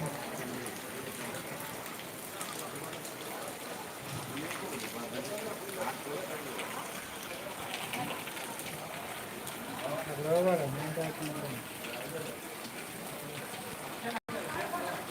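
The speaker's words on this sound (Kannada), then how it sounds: "ಇದೆಲ್ಲ ಮಳೆ ನೀರು" Steady rain falls outdoors on the day after Diwali, with rainwater running and dripping in a constant soft wash under intermittent talk.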